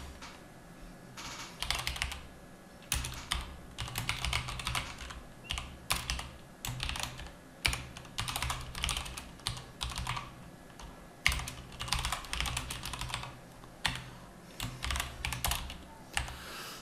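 Clattering keystrokes on a computer keyboard come in uneven bursts and short pauses while code is written for a string-sorting function, close and clear with no voices.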